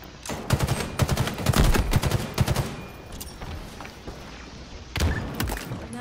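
Grenade blasts and bursts of gunfire from the Halo video game, loud and dense for the first three seconds, a quieter stretch, then another heavy blast near the end.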